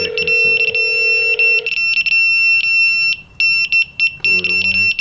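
A K18 hidden camera detector sounds a loud, shrill electronic alarm, first a steady tone and then rapid repeated beeping, close up with a brief buzzing phone-like interference near the end.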